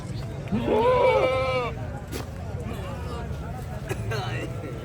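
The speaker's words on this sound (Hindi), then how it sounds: "लंबाई देखें बकरे की, अच्छा बकरा है" A goat at a livestock market in Lahore lets out one loud, wavering bleat lasting about a second, close by, over a steady murmur of crowd noise and voices.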